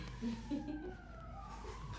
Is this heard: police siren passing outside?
yes